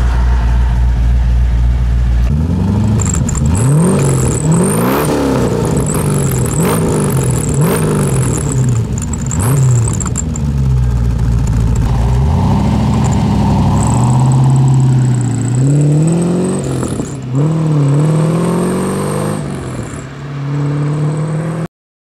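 A 5-litre TVR engine revs hard while driving, a loud, close V8 with rising and falling sweeps through the gears, surging repeatedly and easing off near the end.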